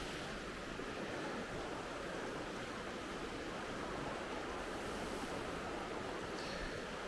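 A river, calmer after high water, flows with a steady, even rushing wash that stays constant throughout at moderate level, with no voices.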